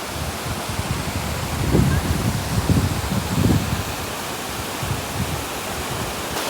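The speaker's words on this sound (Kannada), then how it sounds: "ಇಲ್ಲೊಂದು ಸಣ್ಣ ವಾಟರ್ ಫಾಲ್ಸ್ ಇತ್ತು, ಅದನ್ನು ನಾನು ನಿಮ್ಗೆ ತೋರಿಸ್ತಾರೆ ಈಗ" A small waterfall pours in a steady, broad rush of water, close and continuous, with a few low thumps and rustles mixed in.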